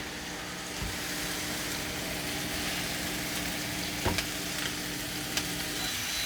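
Burgers sizzle on a Ninja Foodi indoor grill, a constant even hiss over a low hum, with a couple of faint clicks and knocks near the end and no talk.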